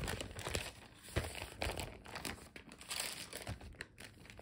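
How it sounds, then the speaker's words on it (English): Parchment paper crinkling and crumpling while being handled during a craft project, a close, continuous rustle with irregular crackling bursts throughout. "So we're going to put that parchment paper right in the middle of this bunny"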